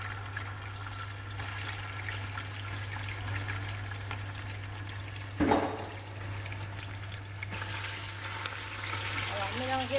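Tomato paste fries with onions in a pan, a faint continuous sizzle with occasional stirring scrapes and a brief louder clatter midway.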